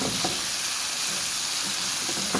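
Chicken sizzles in a pan with onions added, a steady dense frying hiss running throughout with a few soft stirring scrapes near the end, close and fairly loud.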